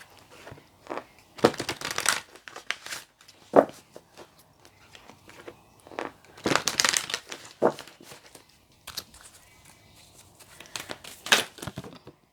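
Cards are shuffled and spill, making repeated bursts of papery riffling and slapping with uneven pauses between them. The sound is close and fairly loud.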